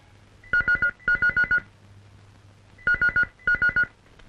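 A household telephone rings in two pairs of rapid trilling bursts, each burst made of quick repeated pulses, with a pause between the pairs, fairly close and clear over a quiet background.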